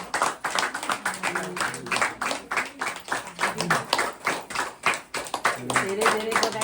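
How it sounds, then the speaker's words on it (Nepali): A small gathering of people claps at a community celebration in Nepal, producing irregular bursts of applause with uneven rhythm and surges in loudness. Voices talk and murmur over the clapping throughout. "ताली पड्काउनु पर्यो सबैले।"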